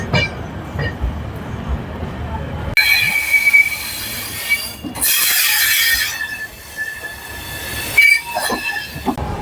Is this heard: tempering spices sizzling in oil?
no